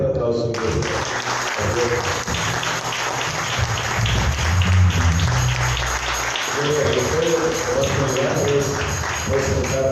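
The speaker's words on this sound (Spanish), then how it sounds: "Dale un fuerte aplauso." Loud, steady applause from a church congregation during a Sunday service fills about ten seconds of dense clapping, with voices and music-like tones running beneath it.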